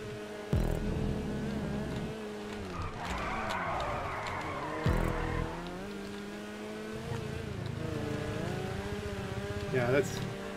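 A car slides and skids through a corner during a race in GTA 5 Online, with engine drone and tire noise rising and falling under steady talk.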